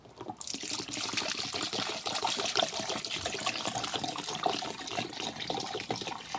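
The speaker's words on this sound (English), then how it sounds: "And we're pouring that inside the headlight unit and adjusting the headlight to settle such that the petrol" Unleaded petrol trickles and pours into a plastic car headlight unit, a steady, soft liquid splashing that lasts throughout, heard alone and close.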